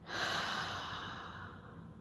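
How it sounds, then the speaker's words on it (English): One long, slow, deep breath flows steadily at close range with an airy hiss that gradually fades, and no talking over it. "So breathe in and breathe out."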